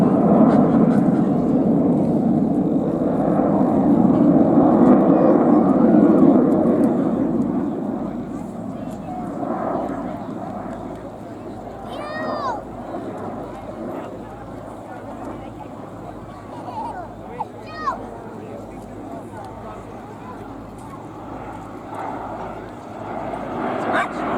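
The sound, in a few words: aircraft built by British Aircraft Corporation at Warton, 1970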